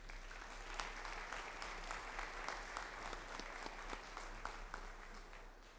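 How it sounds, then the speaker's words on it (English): Honor graduates at a Weslaco East High School honors banquet receive a round of applause, a faint, steady patter of clapping from a modest crowd, heard alone with a low hum beneath it. "Let's go ahead and give them a round of applause."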